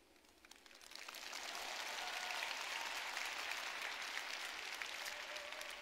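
A large convention audience in an arena applauds, the clapping swelling within the first second into a steady, dense roar that continues without pause.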